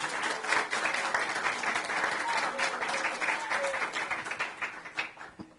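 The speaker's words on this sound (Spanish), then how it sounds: "Sí, un aplauso para Claudia." An audience at a book presentation breaks into warm, dense applause that holds steady, then thins into scattered claps near the end, with faint voices and whistles underneath.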